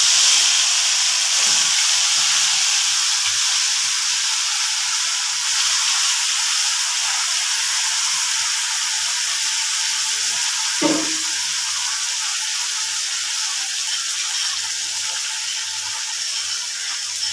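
Poppy-seed, mustard and yogurt paste for doi posto ilish hits a hot pan and sizzles steadily, a loud continuous hiss of frying with a brief clatter near the end and no talking.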